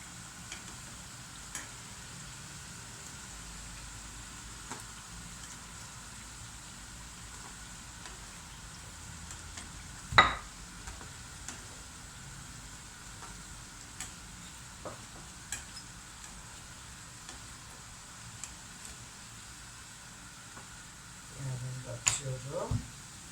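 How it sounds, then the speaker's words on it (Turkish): Yeast-free pişi flatbread dough frying in hot oil gives a steady, faint sizzling hiss throughout, with occasional sharp pops and a brief louder crackle near the end. "Çayımız hazırlanırken bu pişiler hemen pişecektir. Çok çabuk da kızarıyor."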